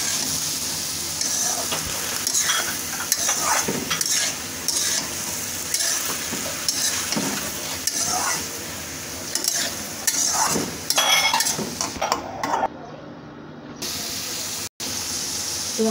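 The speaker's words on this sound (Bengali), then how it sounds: "এখন একটু নেড়ে দিচ্ছি" Mixed vegetables for a Chinese-style vegetable dish sizzle loudly in a pan while being stirred. A steady frying hiss carries repeated scraping strokes close up, then goes briefly quieter near the end.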